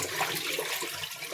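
Running water gushes steadily at a kitchen sink while a surface is rinsed clean before cooking, a continuous close splashing wash with no break across the short stretch.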